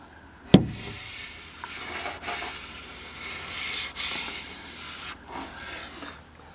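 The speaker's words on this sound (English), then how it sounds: "I'm rubbing my hand over the outside of it." A hand rubbing over the outside of a carbon fiber part backed with fiberglass gives a soft, steady brushing rasp after a sharp knock at the start, swelling and easing in strokes, close and alone.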